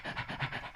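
A performer imitates a dog panting, quick rhythmic breathy huffs repeated about six times in under a second, close and fairly quiet.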